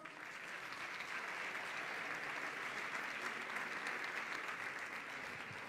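A crowd at a 2022 sports awards gala in Béjar claps in sustained, even applause for several seconds, a dense wash of many hands heard from within the hall without a break or a clear voice.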